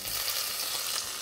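Red Thai curry paste hits a tablespoon of hot oil in a hot pan and sizzles steadily, a close, bright, hissing fry that holds without pause and has no voices over it.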